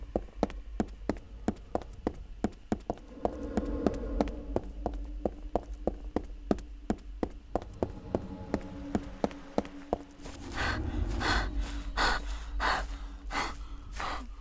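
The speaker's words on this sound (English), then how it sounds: "Panting like a dog." A character pants in the video game Mistfall: quick, rhythmic breaths repeat in sharp bursts throughout, close and fairly loud, under a low game hum that thickens near the end.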